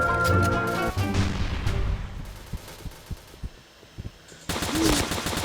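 Gunfire in an online free-for-all shooter game, a run of sharp thudding shots in quick succession, some spaced and punchy, with game music and effects around them.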